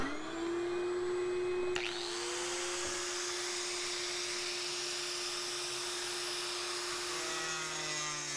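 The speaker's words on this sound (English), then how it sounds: "so I'm gonna use a vacuum." A vacuum cleaner whines steadily throughout, loud and close, with a sharp click near the start as its pitch shifts, and no one speaking.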